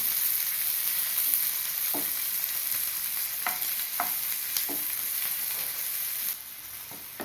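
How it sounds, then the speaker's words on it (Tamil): Finely chopped onion frying in oil with mustard seeds and dal in a pan, a steady close sizzle with occasional soft stirring scrapes. "பெரிய வெங்காயம் ஒன்று பொடியாக அரிஞ்சு வச்சது அதை போட்டுக்கலாம்"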